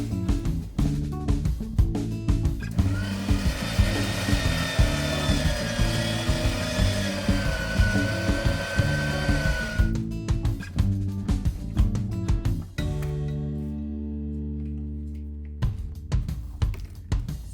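A meat grinder churns through meat for South African boerewors sausage, a loud, steady motorized grinding with rhythmic pulsing, ending in a smoother, lower hum with no talking.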